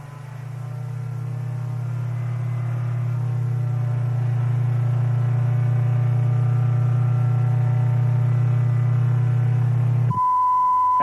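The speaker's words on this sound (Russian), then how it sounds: "Если частота увеличится до 1 кГц, вы услышите вот такой звук." A pure sine test tone, heard after a long steady low hum of about ten seconds; the tone itself starts only in the last second, clean, constant and fairly loud.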